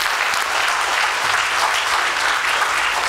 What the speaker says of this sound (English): Mr. Bob Endert, once again, big round of applause.